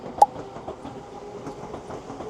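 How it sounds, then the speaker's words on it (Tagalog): A train passes near a hotel balcony in Kyoto, a steady low rumble of rolling wagons with faint rhythmic clatter and one sharp knock early on, heard from a moderate distance with no talking. "may train na dumadaan"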